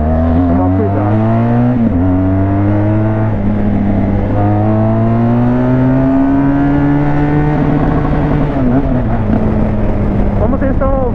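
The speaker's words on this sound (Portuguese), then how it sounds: "Como vocês estão ouvindo, né, mano? Essa moto aqui tá com escapamento desmiolado" A loud BMW R1200 motorcycle with straight-pipe exhaust idles and revs close by, its rough, throaty engine note rising and falling, with someone talking over it.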